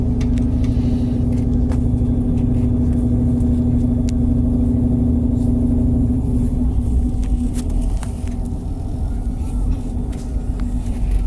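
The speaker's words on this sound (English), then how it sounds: "Listen to the diesel engine noises." Diesel train engine drones steadily with a strong low hum as a TransWA passenger train departs East Perth Terminal on the standard gauge line, loud and continuous throughout with faint clatter above.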